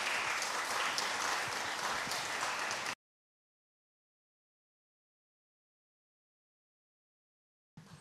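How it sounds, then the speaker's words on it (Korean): Hall audience at a Korean gasa music seminar and performance at the National Gugak Center's Umyeondang gives a presenter a warm round of applause, dense clapping for about three seconds before cutting to silence. "큰 박수 부탁드리겠습니다."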